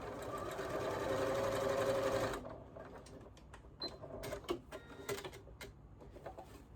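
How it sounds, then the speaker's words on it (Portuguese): Domestic sewing machine stitching fabric for a panettone holder, a fast steady motor whir with rapid needle clatter for about two seconds, then stopping, followed by soft handling clicks and rustling of cloth. "Eu gosto de fazer uma costura na máquina"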